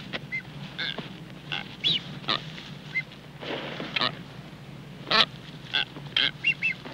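Blue-footed boobies at a nest with newborn chicks on Isabela, giving scattered harsh honking and whistling calls in short bursts, moderately close, over a low background rumble.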